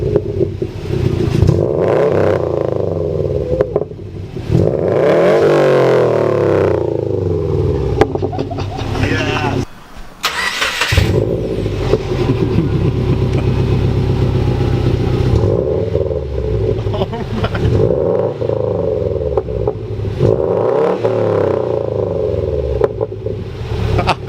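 A Subaru WRX fitted with a new catback exhaust revs repeatedly, its loud engine note sweeping up and falling back in several distinct pulls, with a brief dip midway and voices talking over the rumble.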